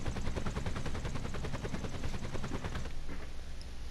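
Rapid, dense bursts of automatic gunfire mixed with a helicopter's rotor chatter in Grand Theft Auto: San Andreas, loud and sustained for about three seconds before cutting off into quieter background noise.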